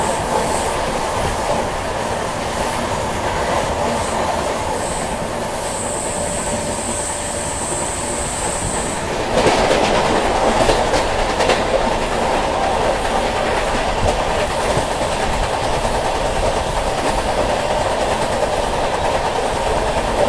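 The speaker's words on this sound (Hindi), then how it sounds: "चलिए पूरा लूप क्लियर करके एक्सेलरेट करना शुरू कर दिया अपनी राजधानी ने" Goa Rajdhani Express picking up speed on the rails after clearing a loop line in the monsoon, a loud steady rumble with rhythmic wheel clatter that intensifies partway through, heard from on board.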